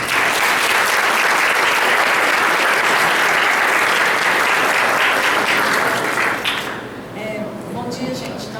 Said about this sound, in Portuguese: Recebam com uma forte salva de palmas